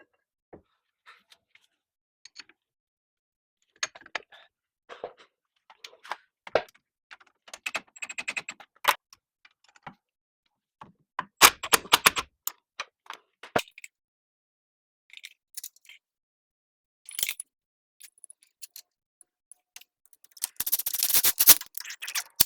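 Bolts are tightened on a CV axle spacer of a 2000 Chevy Silverado 1500, sparse close metallic clicks and ratcheting bursts separated by quiet pauses, with a longer rapid ratcheting run near the end.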